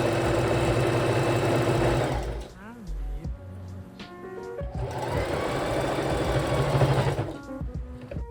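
A sewing machine stitches a Spider-Man costume glove, running in loud close bursts of rapid whirring, pausing briefly in the middle with small mechanical clicks, then stitching steadily again.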